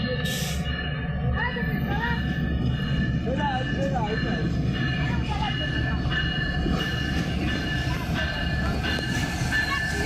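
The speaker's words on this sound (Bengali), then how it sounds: "আপনারা দেখছেন ট্রেনের ইঞ্জিনটি পিছন থেকে খুলে সামনের দিকে নিয়ে যাওয়া হচ্ছে।" A diesel locomotive of the Madhumati Express is uncoupled and moved from the rear to the front at a junction, with a steady engine rumble, repeated wheel squeals and background voices.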